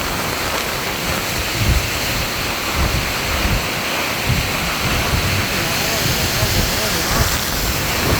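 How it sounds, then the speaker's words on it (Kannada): Water crashing down with heavy force, a loud, dense roar like pounding waves or a falling torrent, constant and close throughout with surges of low rumble. "ನೀರು ಬೀಳೋ ಪೆಟ್ಟು ನೋಡಿ"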